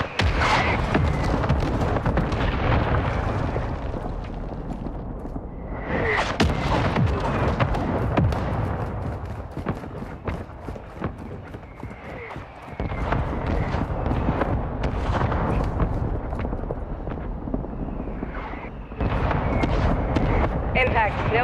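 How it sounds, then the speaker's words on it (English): A mortar strike hits in Call of Duty: several heavy explosions and bursts of gunfire come in waves of dense rumbling noise, with voices talking over the battle. "Mortar support incoming!"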